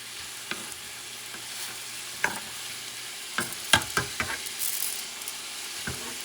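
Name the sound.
rice added to a frying pan for cod paella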